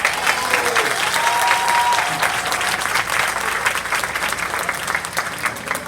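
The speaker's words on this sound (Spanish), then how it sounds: "al Señor se le aplaude con fuerza." Church congregation applauding loudly during a service, dense crowd clapping that holds steady for several seconds, with a few voices mixed in.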